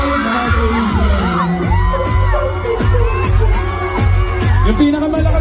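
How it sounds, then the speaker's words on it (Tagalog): A dense festival crowd at a Toronto street festival shouts, whoops and cheers loudly and continuously, with music and rhythmic banging throughout. "Yung pinakamalakas na sigaw."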